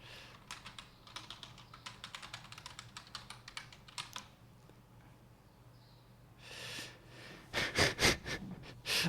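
Close, steady typing on a computer keyboard, fast rapid key clicks that pause briefly before heavier, louder keystrokes and a few sniffs at the end.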